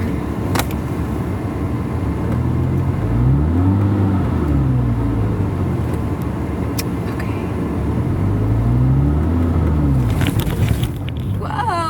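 A manual transmission car pulls away in first gear, its engine rumbling low and close with rising and falling revs as it moves off, steady and loud for the whole stretch.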